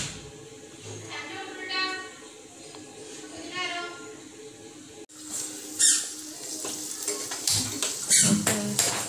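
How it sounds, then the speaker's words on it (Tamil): Ingredients roasting in ghee in a pan until golden brown for payasam, a continuous sizzle with stirring scrapes and squeaks of the spoon, louder in the second half, a voice speaking over it. "கோல்டன் ப்ரௌன் கலர் வர்றது வரைக்கும் நல்லா ரோஸ்ட் பண்ணுங்க"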